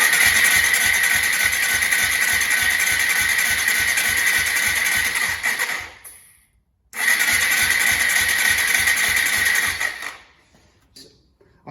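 Yamaha SR125 motorcycle engine turning over on the starter without firing, a loud rapid rhythmic churning that runs about six seconds, stops, then cranks again for another three seconds before cutting off.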